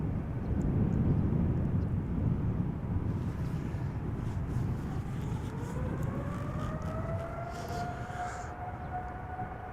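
A Martinair-liveried Boeing 747 takes off at Amsterdam Schiphol Airport. A loud, broad jet roar holds steady for about ten seconds, with a rising engine whine emerging partway through, heard from a distance and with no talking.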